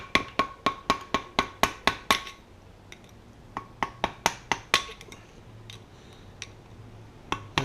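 Sharp metallic taps ring out as a tool bends locking tabs off exhaust manifold bolts on a 1966 Ford Galaxie 500 engine, first in a quick regular run, then after a pause in a second burst and a few scattered strikes.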